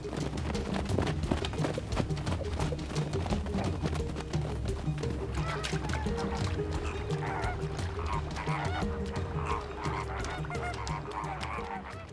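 Camargue horses move through open marshland with a steady clip-clop of hooves, mixed with honking geese and other birds nearby and an occasional whinny, all at moderate volume with no talk.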